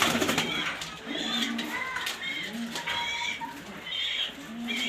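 Several male pigeons, including blue racers, coo in repeated throaty bursts nearby, with overlapping calls and brief flutter-like noises between them.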